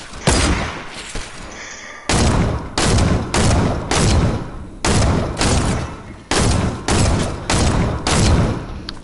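Loud gunfire from a first-person shooter game, coming as a series of heavy, sharp bursts of shots that repeat in quick succession and separated by brief pauses, close and dominant throughout.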